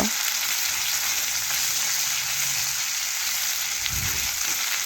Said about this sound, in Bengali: এইভাবে উল্টে পাল্টে মাছগুলো একটু লাল লাল করে ভেজে তুলে নেব